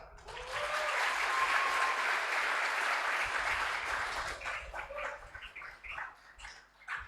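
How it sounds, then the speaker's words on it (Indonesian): A seminar audience in a hall breaks into loud, dense applause that swells, holds for several seconds, then thins into scattered claps before fading. "Tepuk tangan dulu lah."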